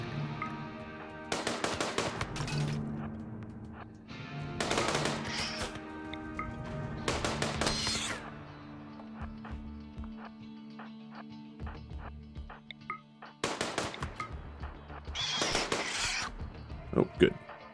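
Bursts of gunfire in RimWorld come in several sharp clusters of rapid shots, spaced apart over a steady hum of background music and game ambience.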